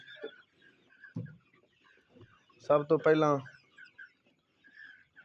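A desi hen gives a few soft clucks, then a louder burst of calls, while a person speaks briefly in the background.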